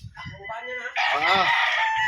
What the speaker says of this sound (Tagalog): Kita natin yung mga manok ni Sir GC sa Livestrong Game Farm